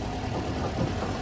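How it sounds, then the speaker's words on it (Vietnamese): A 2007 Mexican-import car with an automatic gearbox and a 1.8 engine idles in a steady, low, even rumble. The burst is short and close, with no talk. "Cái máy nổ thì thôi rồi luôn,"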